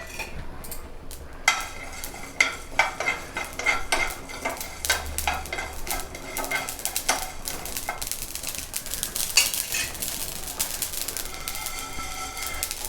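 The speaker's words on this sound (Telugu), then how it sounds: "ఆయిల్ వేయకుండా ముందు ఆవాలు, జీలకర్ర, ధనియాలు వేసి వేగించుకుందాము." Mustard, cumin and coriander seeds dry roasting in a hot pan with no oil, a close crackle with frequent sharp clinks and scrapes of a utensil stirring them.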